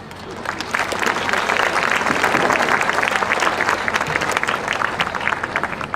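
Loud, sustained audience applause for fair queen candidates and semifinalists at the West Lampeter Fair, rising after a moment and continuing steadily as a dense wash of clapping.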